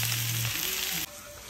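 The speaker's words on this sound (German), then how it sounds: "Und die werden wir jetzt anbraten." Onions and mushrooms sizzling in a kazan, a dense, steady frying hiss that fills the short stretch and then drops a little quieter, with no talking.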